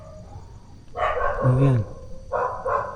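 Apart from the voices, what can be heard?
dog barking at abandoned school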